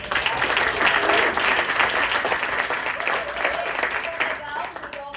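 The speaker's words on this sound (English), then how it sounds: "let's give him a round of applause" A theater crowd at a vaudevillian variety show gives a warm round of applause, many hands clapping steadily for about five seconds and tapering slightly at the end, with scattered voices mixed in.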